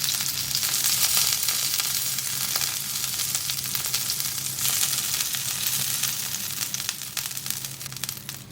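Chicken seekh kababs frying in hot oil give a steady, fairly loud sizzle with a crackling hiss that runs without a break and no voices.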